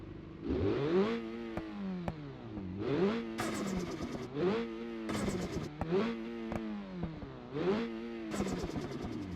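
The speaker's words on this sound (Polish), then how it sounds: "Posłuchajcie blow-offu." A revving engine rises and falls repeatedly, with sharp hissing bursts as the throttle lifts, like a turbo blow-off in a racing game.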